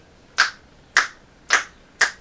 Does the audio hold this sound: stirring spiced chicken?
no